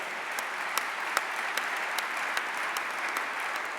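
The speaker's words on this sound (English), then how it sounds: "Give yourselves a round of applause, yes." Audience at a National Guard conference gives a round of applause, dense, even clapping filling the room with no voices, with a few sharper claps standing out at regular intervals.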